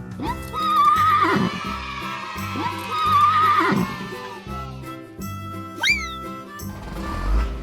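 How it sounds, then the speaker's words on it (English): A horse gives several loud, close whinnies in a row, shrill wavering cries with short gaps between them, heard alone without any talking. "Horse."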